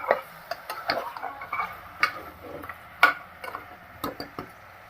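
Mutton pieces being stirred in oil in a cooking pan, with irregular clinks and scrapes of the spoon against the pan over a soft steady sizzle, close and alone without talk.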